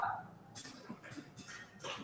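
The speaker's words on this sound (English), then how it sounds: "That's the dog. That's my dog." A pet dog barks and yips a few times in a home during a business chat, the sharp calls spaced out and fairly close against a quiet room.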